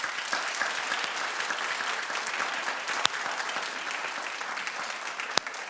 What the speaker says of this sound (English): Clap if you feel that prison is no place for children.